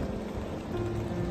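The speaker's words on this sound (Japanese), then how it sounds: "今日は一日雨ですね。" Steady rain falls all day, a dense continuous patter of drops on surfaces at an even, moderate level with no voices.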